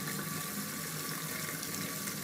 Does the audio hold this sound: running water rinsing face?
yes